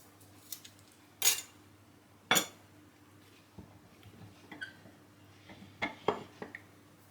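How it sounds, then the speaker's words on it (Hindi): A knife cuts through a lemon on a board and the juice is squeezed out while making potato chapli kebabs: a few sharp knife taps and clinks, with softer scattered squishes between them, close by and without talk. "1 नींबू, इसको काट के जूस निकाल के डाल देते हैं।"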